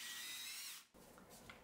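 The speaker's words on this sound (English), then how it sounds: "I am drilling holes into the acrylic mirror to allow for this." A drill bores holes into an acrylic mirror, a faint high-pitched whine that cuts out abruptly, followed by quieter scraping and handling noises.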